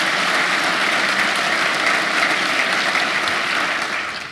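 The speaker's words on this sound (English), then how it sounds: "Let's give him a big round of applause" Conference attendees at an emergency preparedness event applaud Lieutenant Governor Bob Duffy, thick continuous clapping from a large room that stays level and fades slightly at the finish.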